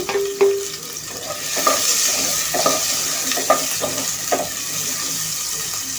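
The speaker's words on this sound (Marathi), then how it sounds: "दोन मोठे कांदे आणि दोन टॅमॅटो हा मसाला आपण फ्राय करून घेणार आहोत हा ग्रेव्हीसाठी आहे" Onion and tomato masala for a dhaba-style gravy frying in a pan, with a steady bright sizzle and repeated scraping clicks from stirring, close and loud, without any talk.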